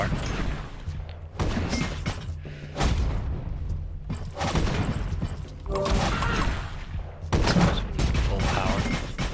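Ballista barrage in the strategy game Siegecraft Commander, a run of heavy thumping impacts and booms arriving in uneven bursts, loud and close with short gaps between volleys.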